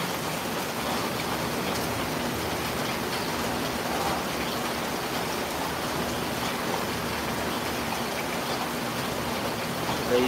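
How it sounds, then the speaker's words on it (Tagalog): Heavy rain pours down in a steady, even hiss that stays constant throughout, moderately loud with no voices over it. "Malakas ang ulan."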